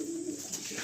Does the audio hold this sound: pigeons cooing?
yes